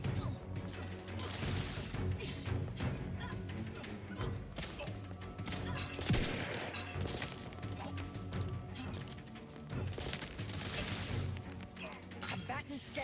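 Combat in The Outer Worlds 2 video game, with bursts of gunfire and crashing impacts under robotic voice callouts and a steady game score, fairly faint in the mix.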